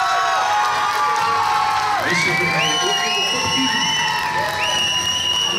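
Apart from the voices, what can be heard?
audience applause and cheering for a contestant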